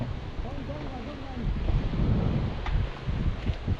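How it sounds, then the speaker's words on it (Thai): Strong wind buffets the microphone on a fishing pier at a beach, rumbling in uneven gusts over distant surf, with faint voices briefly in the background. "วันนี้เอาก็จะลมแรงเลยนะครั บ"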